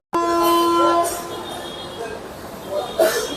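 Jan Shatabdi Express at Vadodara Junction, a loud train horn blast near the start followed by steady rumbling rail and carriage noise, with a brief louder clank near the end.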